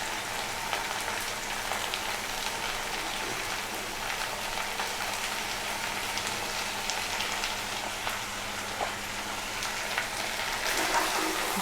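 Chickpeas with chopped coriander and ground cumin stirred and frying in a pan for a Bengali chola bhuna, giving a steady, close crackling sizzle with light scraping through the stirring.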